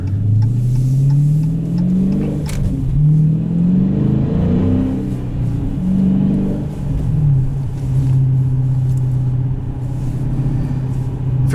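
A 2019 Dodge Challenger T/A with the 392 engine pulls hard through held gears, its loud V8 rising steadily in pitch, dropping briefly at each shift, then climbing again in a long continuous roar heard from inside the car.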